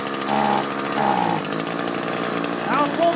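A two-stroke string trimmer that runs only on choke idles and buzzes loudly in uneven bursts, starved of air, with someone talking over the engine.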